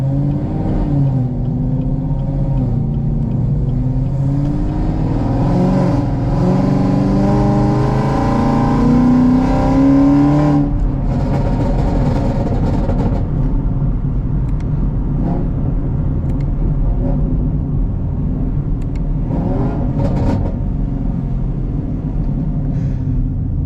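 A 750-horsepower Chevrolet Camaro ZL1 with a K-Tech ported supercharger accelerates hard along quiet backroads. Its loud, close engine climbs through rising revs, eases off and pulls again with a deep rumble.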